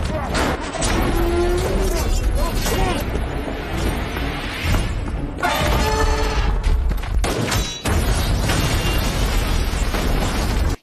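Gunfire hits a gas tank filled with magnesium oxide and sets off an explosion in the 2024 action film Elevation. Loud, dense booms, bursts and crashing roar fill the scene almost continuously, with a brief drop before the blasts resume.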